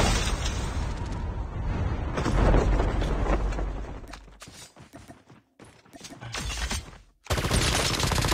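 Rapid gunfire from Call of Duty Mobile gameplay, dense bursts of loud shots that thin into sparse scattered cracks before a sudden loud burst returns at the end.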